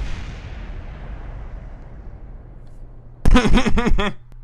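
Missile blasts in a Top Gear-style demolition challenge video game: a long rumbling roar fades out, then a loud, sharp burst of several rapid explosive pops lands near the end, with no talking.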